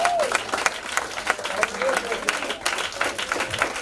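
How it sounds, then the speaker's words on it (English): A church congregation claps hands in a steady scattered patter under a preacher's ongoing talk, with crowd voices mixed in. "Somebody clap your hands and give God some glory"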